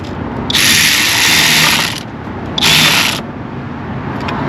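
Hand ratchet tightening the battery terminal on a 2018 Honda HR-V 1.8L, heard as two loud bursts of rapid clicking, about one and a half seconds then half a second, close by with no talk.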